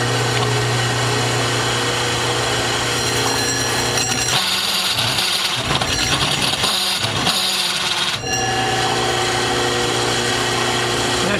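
A small Mini Snapper motor runs steadily while cutting, making an odd, uneven noise, with a rough droning hum that thins and stutters briefly mid-way before returning at full, close-up loudness; no talk over it.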